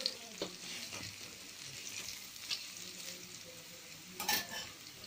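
Pieces of yam frying in oil in a pan while being stirred, a soft constant sizzle broken by scattered light scraping and clinking of a utensil, close and fairly quiet, no voices.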